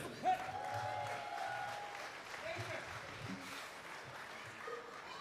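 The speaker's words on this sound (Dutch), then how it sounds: "mag ik ook een heel, heel, heel hartelijk applaus voor de one and only Davy Pechler" A live jazz audience at Jazz in Duketown 2022 applauds for Davy Pechler, a steady wash of clapping from a crowd that carries on throughout, with faint murmuring under it.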